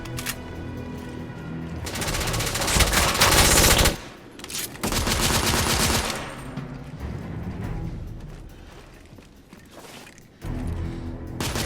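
Bursts of gunfire in The Order: 1886, loud rapid volleys around two to four seconds and again near five to six, trailing off into quieter gaps before another burst at the end.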